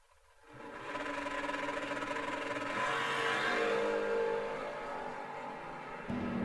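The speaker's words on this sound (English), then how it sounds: "Camaro gets a head start, and the coupe will see if they can run them down." A Camaro and a coupe launching off the starting line at an old-time drag race, engines roaring up from idle into a loud sustained wail that holds steady, then dips slightly as they pull away.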